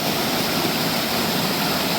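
A waterfall in a forest at night pours steadily as a dense, loud rush of water, unbroken and close, with no voices over it.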